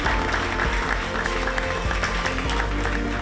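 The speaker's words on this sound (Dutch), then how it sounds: "Ik zou heel graag met jullie een hartelijke en dankbare applaus willen" Audience applause for the staff at an AFC Ajax U19 season gathering, a steady dense wash of clapping filling the room throughout, with some low rumble and voices mixed in.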